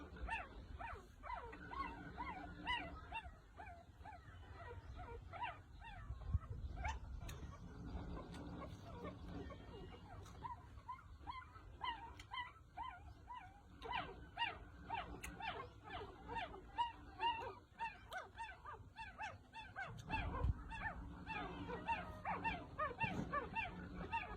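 Plump young puppies give repeated yips, whimpers and small barks close by throughout, a busy, continuous stream of high calls over low background noise.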